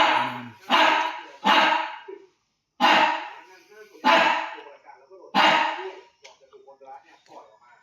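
A dog barks close by, about six sharp barks in an uneven rhythm separated by short pauses, then trails off into quieter whimpers.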